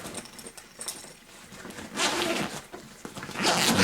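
A backpack zipper on an Outdoor Products Vortex 8.0 day pack's hydration compartment rasps open in a couple of drawn-out pulls, close by, with some fabric rustling in between and no talking.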